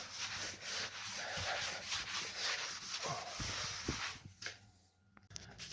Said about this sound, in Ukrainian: Можна це зробити шліфувальною машиною.